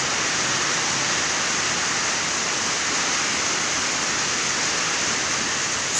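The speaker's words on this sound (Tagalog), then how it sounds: "Super ulan na hapon." Heavy afternoon rain during a typhoon, a dense, continuous roar of downpour with no break, loud and close, with no voices.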